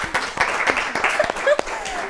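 A studio audience on an Ethiopian children's television show claps for a student, with a brief burst of scattered, uneven clapping and some voices mixed in.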